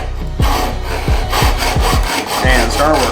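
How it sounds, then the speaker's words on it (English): A hand file rasps across motocross foot peg teeth in steady strokes, about six repeated scraping passes, close and fairly loud, with a brief spoken phrase at the start. "this file's actually a little thick getting in between the teeth, but it'll work"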